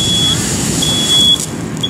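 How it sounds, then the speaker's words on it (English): A smoke detector alarm sounds a shrill, steady electronic tone in repeated long beeps over a loud, rumbling background during a fire sprinkler burn demonstration. "The smoke detector sees the smoke and it goes off."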